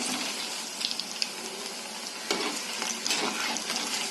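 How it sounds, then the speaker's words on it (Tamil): Sago (javvarisi) bondas deep frying in hot oil, a steady dense sizzle with bubbling crackles and small pops, close and continuous, with no talking. "பாருங்கள் எப்படியே பொரிஞ்சு வருது பாருங்க"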